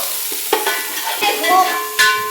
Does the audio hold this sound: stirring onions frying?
yes